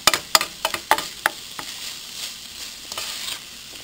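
A spoon stirs a seasoned chili mixture in a pot, giving a quick cluster of sharp clinks and scrapes at first, then a softer low sizzle with a few scattered taps, close by.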